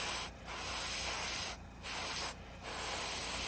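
A spray can lays down orange base coats in three hissing bursts separated by short pauses, close and steady, with no talking.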